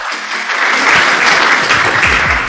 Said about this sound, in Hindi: भाई दिलबाग जी के लिए आप लोग एक बार जोरदार तालियां बजाएं।